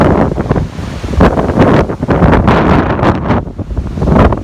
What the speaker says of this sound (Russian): Но шумно и ветрено.